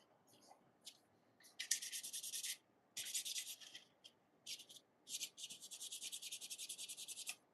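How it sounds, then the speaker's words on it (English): Sandpaper rubbed over a 3D-printed plastic model gives close, hissing scrapes in bursts of one to two seconds separated by short pauses, fairly quiet, with no speech. "then I'm just gonna go over with the sandpaper"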